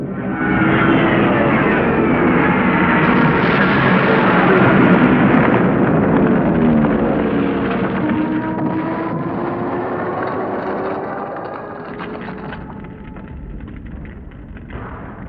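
Second World War Luftwaffe aircraft bombing small Norwegian towns: a loud, continuous roar of droning engines and rumbling blasts, with whining pitches sliding up and down, slowly easing over fifteen seconds.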